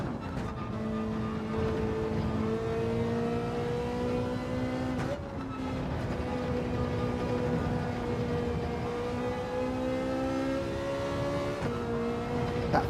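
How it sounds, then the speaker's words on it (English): A Ferrari engine in a racing video game revs steadily and loudly for the whole stretch, its rising harmonic whine climbing through the gears with two brief breaks for shifts, alone without talk. "Can I rev this Ferrari out now"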